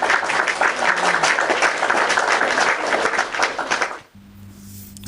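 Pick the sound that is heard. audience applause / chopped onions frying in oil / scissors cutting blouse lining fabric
audience applause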